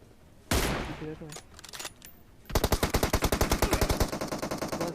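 Automatic gunfire in a BGMI battle royale match: a long, rapid rhythmic burst of loud shots fills the second half, after an earlier single heavy blast and scattered game noise.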